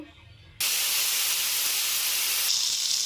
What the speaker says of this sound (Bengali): এবার ওই তেলে পটলগুলো ভেজে নেব